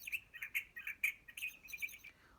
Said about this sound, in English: Soon, the birds were chirping